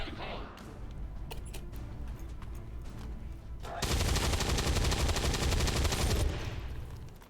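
In an XCOM 2 tactical battle, scattered shots crack early on, then a sustained loud burst of automatic fire rolls for a couple of seconds before fading.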